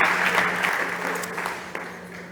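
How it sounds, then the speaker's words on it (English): Audience at a startup competition stage clapping for a presenter, loud dense applause at the start that gradually fades, with a few distinct claps standing out near the end. "Big applause for Giovanni."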